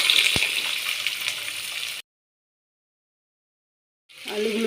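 Potatoes frying in oil in a home kitchen pan for Bengali pumpkin chakka with panch phoron and hing, a steady close hiss of sizzling that cuts out into silence for about two seconds, then resumes.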